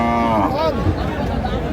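A cow being sold as beef cattle at a busy cattle market in Chattogram gives one loud, close, drawn-out moo that trails off into crowd noise.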